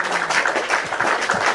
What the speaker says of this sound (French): Non, je voulais applaudir.